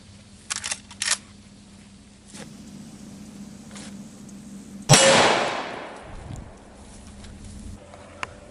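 A .30-30 rifle round fired at level 3 body armor gives one loud, sharp report with a decaying tail, following a few earlier clicks and clanks as the rifle is readied.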